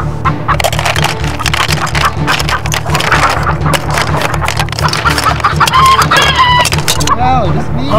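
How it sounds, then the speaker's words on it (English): A chicken clucks and crows in a pretend-play garden scene, heard over steady music and noise and mixed with other busy sounds. "Oh, the chicken."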